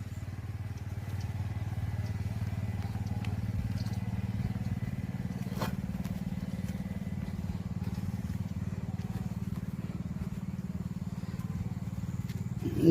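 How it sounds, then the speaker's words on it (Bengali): An irrigation pump engine runs steadily in a potato field, putting out a continuous low droning putter that holds even throughout, with faint clatter on top. "জমিতে জল দিচ্ছে, দেখো মেশিন চলছে।"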